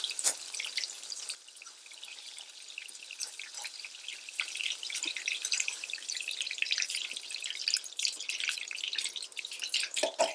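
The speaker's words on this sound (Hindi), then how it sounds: "चिली चीज़ बनाते वक्त सब्जियों को ज़्यादा पकाया नहीं जाता, बस हल्का सा इनका कच्चापन ख़त्म करने के लिए फ्राई करना ज़रूरी है।" Vegetables for chilli paneer fry in a pan, giving a steady, bright sizzle with irregular crackles and spits. The frying is fairly close and continues without a break, with no talking over it.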